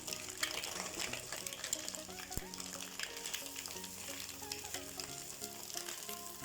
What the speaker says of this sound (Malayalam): ഇത്ര ഇട്ടതിന് ശേഷം വീണ്ടും ഒന്ന് വരട്ടുക. ഒരു 5 മിനിറ്റോളം നന്നായിട്ട് ഒന്ന് വരട്ടിയെടുക്കുക.